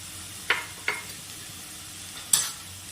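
Potatoes fry quietly in a pan with turmeric, chili powder and salt under a soft steady sizzle. A spoon scrapes and stirs three times in short sharp strokes.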